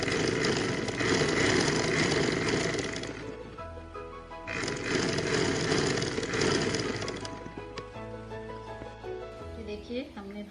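A sewing machine stitches a box-pleated girls' frock, its close mechanical rattle running in two long bursts with a pause between, then fading into quieter handling sounds toward the end.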